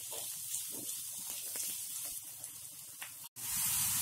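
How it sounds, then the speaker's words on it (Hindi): Cabbage and capsicum crackle and hiss in a hot pan for Schezwan fried rice, a close, uneven sizzle with bursts of spattering, a brief dropout near the end, then a brighter hiss. "कैबेज और कैप्सिकम जल्दी भून जाता है, और इसे हम आधा मिनट तक भूनेंगे"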